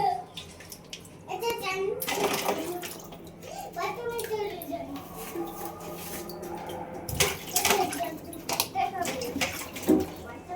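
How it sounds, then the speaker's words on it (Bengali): Crabs are washed one by one in water, with sloshing and splashing bursts and trickling between them while someone talks over the washing throughout. "ভালো করে একটা একটা করে ধুয়ে নিতে হবে"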